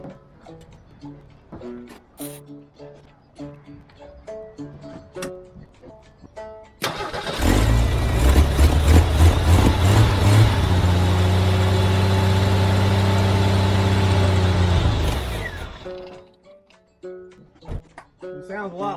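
A 1983 Jeep CJ engine cranks after scattered clicks and voices, fires with a loud rumbling roar, runs at a steady rough idle for several seconds, then cuts off, with talk before and after.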